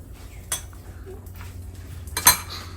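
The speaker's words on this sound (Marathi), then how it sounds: "आता जिरं मोहरीची फोडणी केली आहे ती याच्यावरती घालायची" Metal utensils clink against a dish a few times, with two sharp louder clinks, while a cumin, mustard and asafoetida tempering is poured over a vegetable pachadi in a home kitchen.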